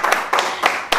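Four sharp hand claps spaced evenly about a third of a second apart, close and fairly loud, with a faint murmur underneath, during a poetry-themed conversation.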